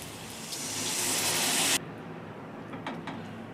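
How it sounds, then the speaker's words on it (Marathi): Water from a glass pours in a steady rising gush into a pan of cooking cluster bean (gavar) bhaji with crushed peanuts, then cuts off abruptly, leaving a quiet sizzle and a few faint clinks. "एक ग्लास पाणी सोडून घेणार आहोत."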